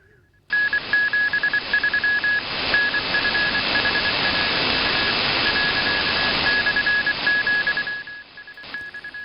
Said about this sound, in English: As we can see here, this is a Morse code.